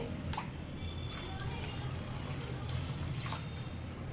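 Rice is rinsed gently by hand in a bowl of water while being prepared for chicken biryani. Faint, soft sloshing and dripping sit under a low steady background hum.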